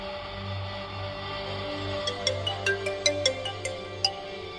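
A phone ringtone chimes in a quick run of bright repeated tones over a low steady hum while a call is being placed, fairly close and clear.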